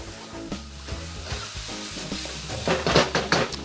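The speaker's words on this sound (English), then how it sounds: "when you notice I'm scraping the bottom, some of the garlic and ginger is sticking" A utensil scrapes stuck garlic and ginger off the bottom of a frying pan in short repeated strokes over a soft sizzle, growing louder and busier toward the end.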